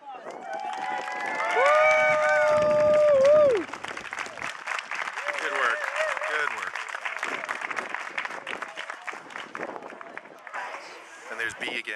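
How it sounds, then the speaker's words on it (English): Applause from the audience at a community volunteer breakfast and service awards, clapping and cheering from a crowd, with loud whoops and voices early on, then steadier clapping mixed with chatter. "Round of applause for our"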